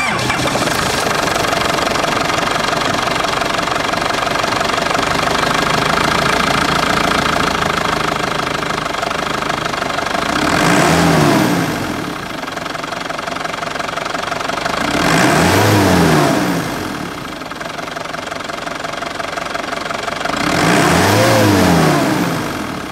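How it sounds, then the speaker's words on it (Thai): A 1990s Isuzu Rodeo 3.0 Cab 4 pickup truck engine idles steadily up close, then revs sharply three times at even intervals, each burst rising and falling back to a rumbling idle, with no talking. "มาฟังเสียงเครื่องยนต์กัน"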